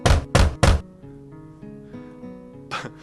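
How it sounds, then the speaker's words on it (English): A front door in the Katawa Shoujo visual novel is knocked three times in quick, loud succession, followed by soft background music and a fourth knock near the end. "by the time Amy knocks on her front door"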